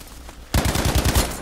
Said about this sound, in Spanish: creo que hay unos compis que están disparando por acá de este lado